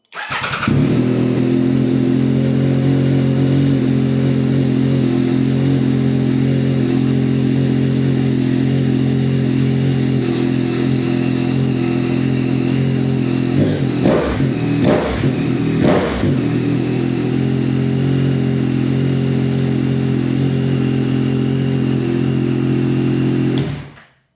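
Yamaha MT-09 motorcycle, a 2025 model with a DNA Stage 2 air filter, idling steadily and loudly up close, with a couple of quick throttle blips in the middle before the engine cuts off.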